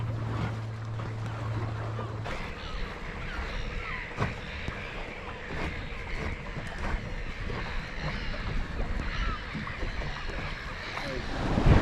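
Wind aboard a small restored Welsford Penguin sailboat heading upwind in about 15 knots, steady rushing wind noise with water slapping the hull, continuous and close with gusty swells.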